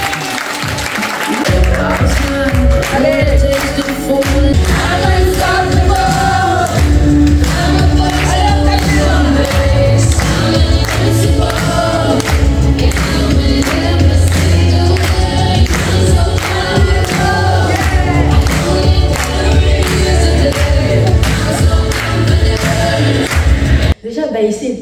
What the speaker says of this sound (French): je vous demande d'applaudir et d'accueillir Mam